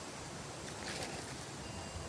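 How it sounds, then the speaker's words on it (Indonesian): Strong wind roars through a forest in a dense, continuous broadband rush that swells slightly midway, loud and close like gusts buffeting the microphone, with no talking. "tiba-tiba ada angin nggak karuan, ini kencang banget"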